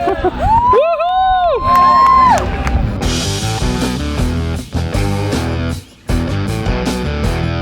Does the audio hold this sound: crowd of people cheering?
yes